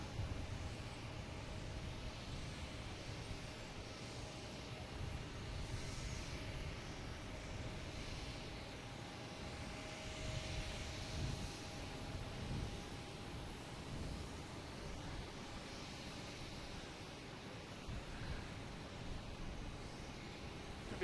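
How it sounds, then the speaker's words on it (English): A Delta Embraer E175 bound for Cincinnati takes off at Boston Logan Airport, its jet engines a faint, sustained roar with a broad rushing hiss heard from a distance. "Next takeoff is a Delta heading to Cincinnati in"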